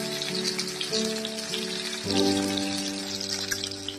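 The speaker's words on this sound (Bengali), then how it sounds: "এক এক করে উচ্ছেগুলোকে ভালো করে ভেজে নেব" Pieces of bitter gourd sizzle steadily in hot oil with a dense, crackling spatter that stays loud and close, while a low tonal hum runs beneath; nobody speaks.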